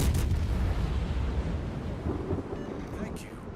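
Deep, rumbling explosions from torpedo hits striking a ship in a naval combat video game, a loud sustained boom that slowly fades over a few seconds.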